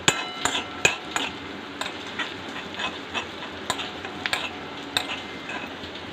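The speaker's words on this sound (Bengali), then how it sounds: "এই রসুন কুচিটাকে একটুখানি ভাজা ভাজা করে ব্রাউন কালার নিয়ে আসতে হবে রসুন কুচিটার" Light sizzling of chopped garlic frying in a pan with scattered clinks and scrapes of a utensil stirring, fairly quiet and without talk.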